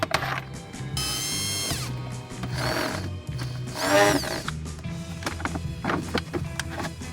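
Cross-head and Torx 25 screws come out of a Peugeot Boxer van dashboard in several short, close whirring bursts from a power screwdriver, with ratcheting clicks and plastic handling noises in between.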